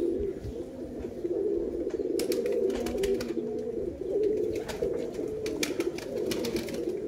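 Pigeons in a loft at R.S. Pura, Jammu and Kashmir, coo steadily in a low, throbbing murmur, with soft flutters and faint bright clicks scattered over the continuous near chorus.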